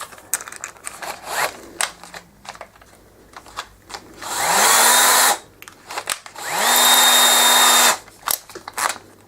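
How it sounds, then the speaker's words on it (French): A power drill enlarges a hole in an Xbox 360 controller in two loud, sustained bursts of about a second each. Small clicks and handling noises fill the gaps between them. "Mettre sur perceuse."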